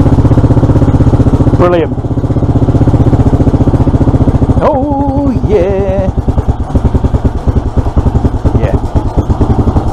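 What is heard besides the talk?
Suzuki FL125 motorcycle engine running cold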